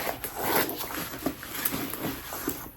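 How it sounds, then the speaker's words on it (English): A small Louis Vuitton pouch being unzipped, a close scratchy zipper rasp with a few uneven pulls and rustling handling noise, no voices. "It's just a little pouch with a zipper."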